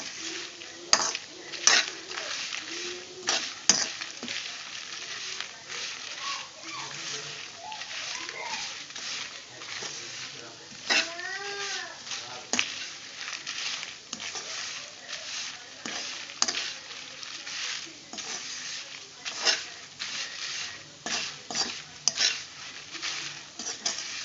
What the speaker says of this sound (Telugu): కొంచెం పసుపు పచ్చివాసన పోయే వరకు గోలించండి